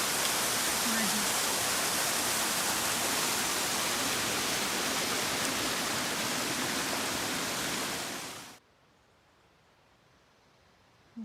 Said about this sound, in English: This is Mossy Falls Brook.